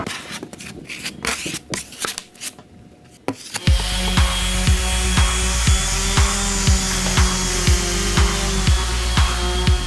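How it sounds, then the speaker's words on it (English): A power sander grinds Bondo filler on a countertop, starting after a few seconds of scattered knocks and scraping, then running loud and continuous with a regular pulsing rhythm until the end. "I've got everything sanded off here"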